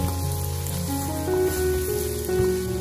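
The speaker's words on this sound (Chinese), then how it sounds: "油热后，把切好的姜蒜辣椒全部倒入锅中，用锅铲翻炒，炒出它们的香味。" Ginger, garlic and chili stir-fried in hot oil in a wok, a dense continuous sizzle up close with faint spatula scrapes, no voices.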